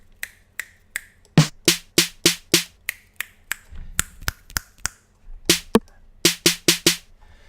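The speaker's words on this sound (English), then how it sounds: "you want something that is just like you're snapping your fingers" Finger snap sample in an FL Studio trap beat: crisp, dry snaps in a steady rhythmic pattern, about twenty sharp hits with no voices.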